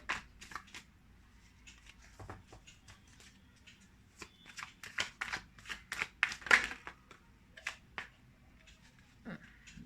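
Tarot cards being shuffled and drawn by hand, heard as close, crisp riffling bursts and flicks in irregular clusters against a quiet room.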